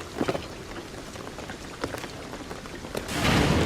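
Rain in Shadow of the Tomb Raider falls as a steady patter with scattered louder drops, swelling into a heavier downpour rush at the end.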